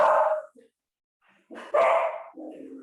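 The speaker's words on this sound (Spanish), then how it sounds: "Les presento a mis perros. Están cuidando mi casa." Dogs guarding a house bark loudly and close by in short bursts, with a pause of quiet between the barks and some lower yips following.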